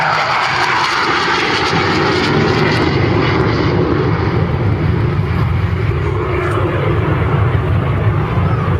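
A Hawker Hunter jet with a Rolls-Royce Avon engine roars loudly and steadily at an airshow, a continuous broadband jet rumble and whine filling the whole stretch without a break.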